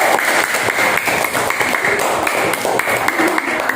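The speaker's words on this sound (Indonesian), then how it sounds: "ayo kasih tepuk tangannya buat kelompok 1" A group claps for a student team in an Indonesian classroom lesson on Qur'an and Hadith, a dense, fairly loud run of applause with sharp individual claps throughout and no talking over it.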